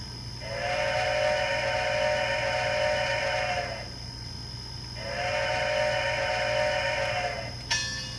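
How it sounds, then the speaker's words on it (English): Two long, steady steam whistle blasts from a Proto 2000 Berkshire model steam locomotive with a Tsunami sound decoder, each lasting about three seconds with a short gap between, over a low constant hum. "That's a short whistle."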